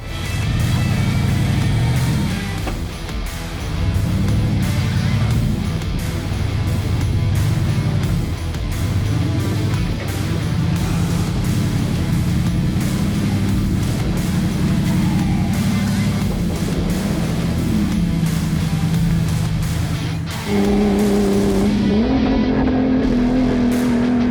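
A Jeep wheeling along off-road trails in Johnson Valley, its engine droning steadily close by with shifting revs, and a rising higher engine tone near the end.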